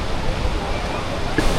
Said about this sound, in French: Regardez encore une fois la puissance de la cascade.